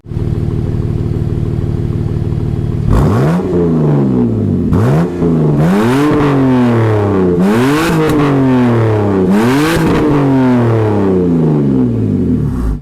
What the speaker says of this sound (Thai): เราจะมาฟังเสียงท่อนะครับ